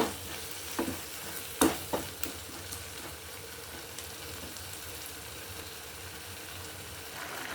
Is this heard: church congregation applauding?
no